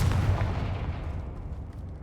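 A blasting-curse explosion from the video game Hogwarts Legacy booms loudly with a deep, rumbling roar that slowly fades over about two seconds.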